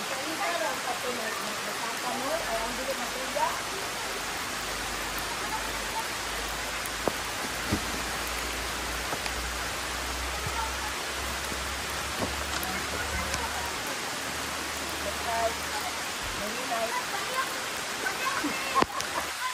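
Rain falling steadily outdoors at a cafe, a dense continuous hiss of drops on surfaces with occasional louder splats, lasting throughout with a low rumble underneath.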